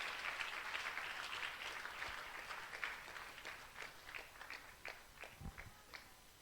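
A congregation at a deliverance prayer service claps, starting as dense steady applause that thins into scattered separate claps toward the end, distant and faint.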